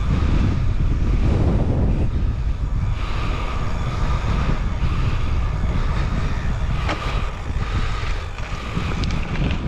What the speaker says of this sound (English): The headwind is heavy.